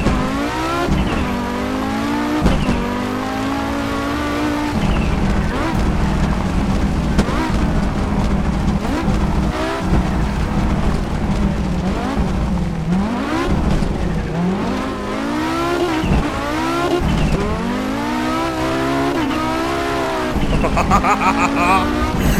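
Audi Quattro S1 E2 rally car in the racing game Assetto Corsa, engine revving hard and rising and falling repeatedly through gear changes on a rally stage in Montenegro, with tire noise beneath the loud, close engine.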